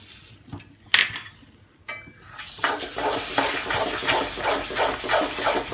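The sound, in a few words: mixing besan halwa batter with added egg in a pan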